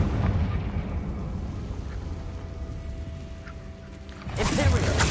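A Confringo blasting curse goes off in a Harry Potter video game, ending in a loud, sudden burst over a low rumble after a quieter stretch with a faint steady tone.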